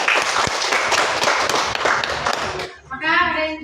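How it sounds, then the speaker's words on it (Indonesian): Classroom applause for a student group, a burst of dense hand clapping for about two and a half seconds that stops abruptly, followed by a voice speaking. "beri aplaus kepada kelompok 3"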